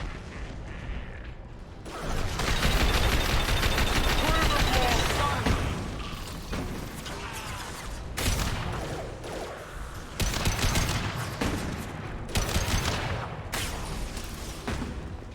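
Heavy gunfire in the Mass Effect 2 video game during the Omega mission with Mordin Solus: dense, sustained bursts of shots and mechanical clatter in loud waves, with voices speaking over the battle.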